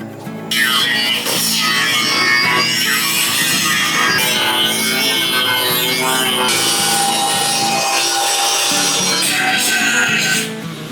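A power grinder working on the wooden bed of a 1948 GMC pickup truck, a loud continuous abrasive whir and rasp close by that holds for nearly the whole stretch before easing off at the end.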